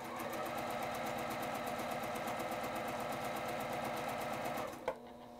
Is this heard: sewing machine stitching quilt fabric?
yes